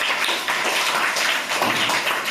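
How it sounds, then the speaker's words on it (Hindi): Fourth-grade children in a classroom applaud a classmate: dense, steady clapping from many hands that fills the whole moment at close range, with no voices over it. "ताली बजाइए इनके लिए।"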